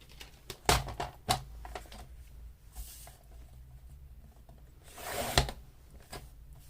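Paper being cut for a handmade envelope folio junk journal: a few sharp snips and crisp rustles, close and fairly quiet, spaced irregularly with pauses between.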